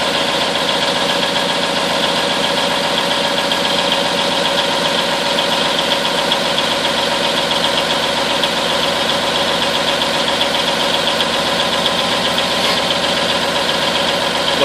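A cold-started M931 military truck engine idles steadily and loudly throughout, a dense continuous rumble with a faint knocking texture and no pauses.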